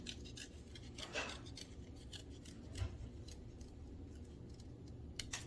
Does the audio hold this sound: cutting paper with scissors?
yes